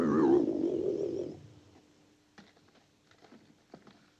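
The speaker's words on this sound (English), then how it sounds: "That's the sound of the saucer we heard on the tape." A flying saucer sound effect from a 1956 science fiction film, played back from a tape, opens with a loud warbling, wavering electronic tone. It cuts off after about a second and a half, leaving faint clicks and a low steady hum.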